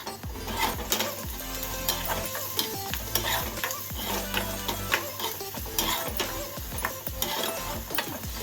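Chopped onion and chillies sizzle in a hot pan, a steady frying crackle close by with repeated stirring scrapes of a spoon against the pan.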